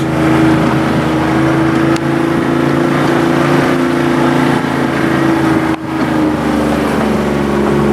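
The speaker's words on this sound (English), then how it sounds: "we're driving through the hills" A car droning steadily while driving through hills, a constant loud engine hum with road rumble from inside the cabin, unbroken for the whole stretch apart from a small dip near the end.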